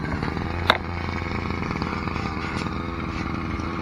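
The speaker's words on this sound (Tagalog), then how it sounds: "May grass cutter na rin." A grass cutter engine drones steadily in a garden near a bean trellis, a continuous buzzing motor hum with one brief sharp click partway through.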